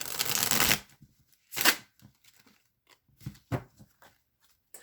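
Tarot cards shuffled for a reading, heard as a long riffling burst followed by shorter snaps and soft card clicks, close and alone in a quiet room.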